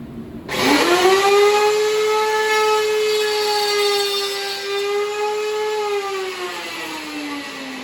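A woodworking router cuts a mortise into a wooden lamp table leg. The motor bursts on after a brief pause, quickly spinning up to a loud, steady, high-pitched whine that holds close and continuous, sagging slightly in pitch toward the end, with no talking.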